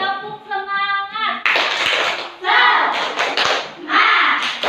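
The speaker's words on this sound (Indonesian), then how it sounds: "Tepuk semangat." Schoolchildren in a grade 4 classroom perform a rhythmic spirit clap, a burst of loud, dense patterned clapping and chanting voices right after a teacher's spoken prompt.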